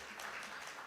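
A conference audience at the MCCIA Edufest 2024 education event applauds Dr. Bhushan Garware, a brief, dense burst of many hands clapping at a steady level.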